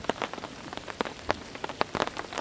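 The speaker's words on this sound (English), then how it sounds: "It's good to be back out in the rain." Rain falling in a green forest on a backpacking trip, with scattered drops tapping nearby surfaces in an irregular patter against a soft steady wash, close and moderately quiet, with no voices.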